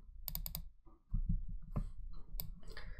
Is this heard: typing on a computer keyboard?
yes